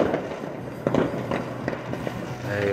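New Year's Eve fireworks go off in a town centre, a run of sharp pops and crackles at moderate distance over outdoor background noise.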